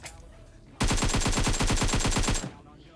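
Automatic gunfire in PUBG on the Sanhok map: one sustained burst of rapid, evenly spaced shots lasting under two seconds, loud and close after a quiet lead-in.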